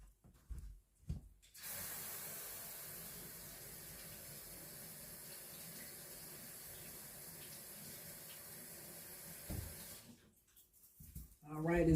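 Gold teeth grillz rinsed under a running tap, a steady broadband rush of water lasting about eight seconds, preceded and followed by brief handling noises and a short burst of talk at the end.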